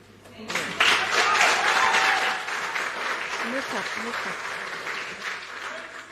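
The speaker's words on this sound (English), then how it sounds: "Round of applause for Tracy" A studio audience at a TV talent show applauds contestant Tracy, a dense, sustained round of clapping with some cheering voices that swells early and slowly fades.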